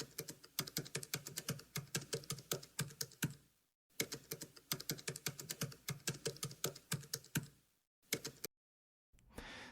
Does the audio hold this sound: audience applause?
no